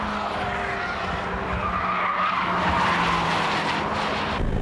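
Race cars corner through the final corner at Tsukuba circuit with squealing, skidding tires over loud engine roar, a sustained close rush of tire scrub and motor noise.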